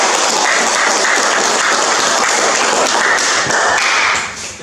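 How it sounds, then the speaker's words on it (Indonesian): Dense, sustained audience applause fills the room at a steady level, then drops off sharply near the end, with no talking over it. "Tepuk tangan dulu."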